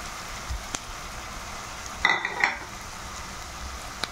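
Chopped garlic tossed into hot oil with dried fish gives a short sizzling burst and a scrape of stirring, then fades back to a quiet, soft frying hiss.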